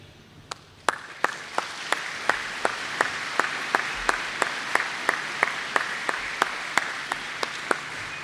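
Applause welcoming faculty at a technical institute graduation, with sharp, evenly spaced claps ringing out about twice a second over a soft background of crowd clapping.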